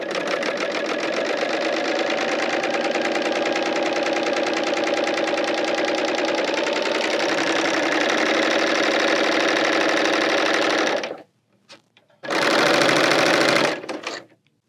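A Bernina L890 serger overlocks fleece fabric in a steady, loud, fast mechanical whir that runs for about eleven seconds, stops briefly, then starts again in a short final burst, with no talking.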